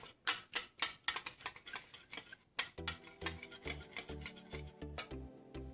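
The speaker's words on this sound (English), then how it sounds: "we are going to whisk this yogurt with the whisker" A whisk beats yogurt in a bowl for an eggplant raita, making a quick run of rhythmic clinking, tapping strokes against the bowl, close and clear with no talking.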